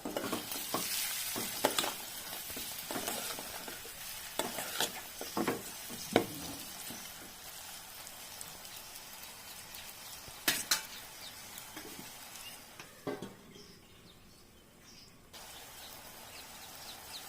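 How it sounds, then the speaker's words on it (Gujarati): Stuffed okra frying over a low gas flame, stirred now and then: a soft steady sizzle runs throughout, broken by scattered scrapes and clinks of a spoon against the pan, quiet and close. "ગેસ ધીમો રાખવાનો અને પાછું વચ્ચે વચ્ચે આમ હલાવતું થવાનું વચ્ચે વચ્ચે."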